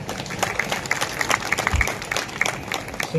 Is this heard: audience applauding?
yes